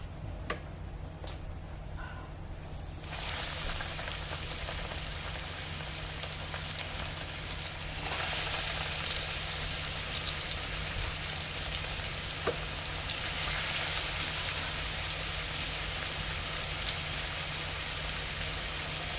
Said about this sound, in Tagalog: Maganda po siya pag deep frying. Lalagay lang po natin, tig-isa.